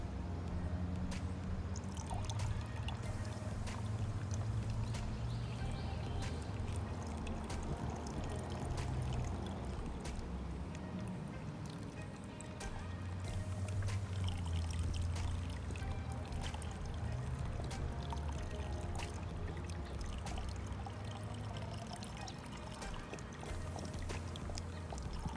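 Liquid poured carefully during cleaning of a Hayward pool salt chlorinator cell, a steady continuous pouring and trickling wash running for the whole stretch at close range, with low rumbling from the container and no voices.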